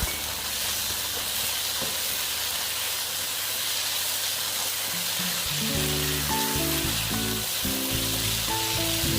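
Minced pork dry-stir-fried without oil in a pan for Thai holy basil pork, a steady loud sizzle and hiss throughout, with rhythmic clanks and scraping of the spatula against the pan joining in the second half.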